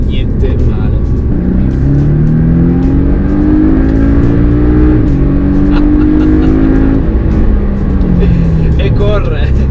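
A Porsche 718 Boxster S engine revs hard under acceleration, pitch climbing through the gears in a loud, close, sustained roar, while someone talks over the engine noise.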